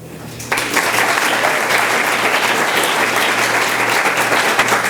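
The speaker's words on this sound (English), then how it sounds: "There are 5 other people in this room who deserve more than a round of applause." Sustained dense audience applause at a university recognition ceremony, swelling suddenly after a half-second and holding steady and loud as a wash of many hands clapping.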